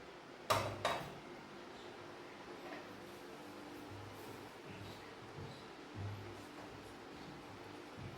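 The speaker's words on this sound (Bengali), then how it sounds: "এই কড়াইটা বসিয়ে দিয়েছি গ্যাসে" A kadai pan set on a gas stove, two sharp metallic clanks near the start, then a soft knock later over a quiet, steady room hum.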